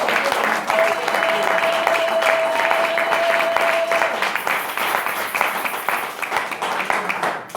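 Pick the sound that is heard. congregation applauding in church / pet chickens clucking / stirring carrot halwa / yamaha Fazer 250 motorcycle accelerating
congregation applauding in church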